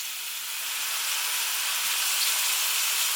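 Mushrooms fry in oil in a hot pan, giving a steady, close sizzling hiss that runs without a break for a few seconds. No voices are heard over it.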